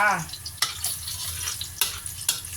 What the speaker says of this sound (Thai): ผัดง่ายๆจะใส่กระเทียมเข้าไป